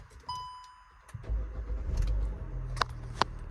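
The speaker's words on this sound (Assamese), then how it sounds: "সব গাড়ী মই স্টাৰ্ট কৰিম" A used first-owner Hyundai i20 Magna petrol hatchback: keys jingle briefly, then the engine cranks and catches, settling into a low, steady idle rumble close by, with a few sharp clicks.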